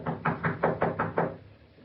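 Knocking on a door for an old-time radio drama: six firm, evenly paced raps, muffled and close, followed by a quiet tail.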